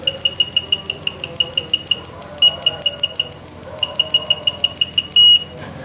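A Heles UX35TR digital multimeter on continuity test gives a string of rapid, high, clipped beeps that break off and restart several times, with two brief steady tones, loud and close with no talk.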